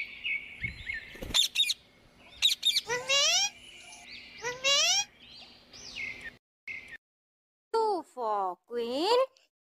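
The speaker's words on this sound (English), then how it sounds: "P for parrot." Cartoon parrot squawks, a few bright warbling calls bursting out twice within a children's 3D phonics alphabet song, with a child-friendly voice and music around them.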